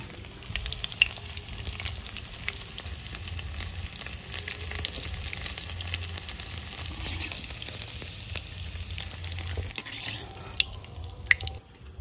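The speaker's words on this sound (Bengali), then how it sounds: "এবার তুলে নিচ্ছি। জলে দেবো, ঠান্ডা জলে।" Lightly fried potatoes and paneer drop into cold water with a soft, continuous bubbling and sizzling hiss, steady and close, occasional drips and small splashes over the top.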